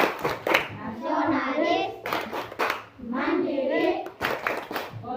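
A classroom of children claps out the PPK clap routine in a rhythmic pattern, with the group chanting character words between bursts of hand claps, close and fairly loud.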